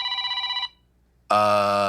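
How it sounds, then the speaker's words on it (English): A telephone bell rings loudly in two bursts separated by a brief silence, the second burst louder and fuller than the first, with no talking. "Phone is ringing."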